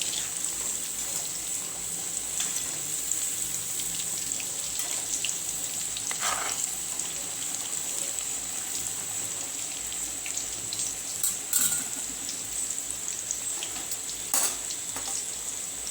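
Chicken wings frying in hot oil, a steady close sizzle and crackle that runs throughout, with occasional brief sharp pops and spatters over it.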